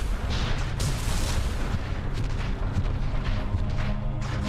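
A wave cannon weapon in Mechassault 2 fires with a heavy, continuous booming roar, dense and loud throughout with bursts of rumbling blasts.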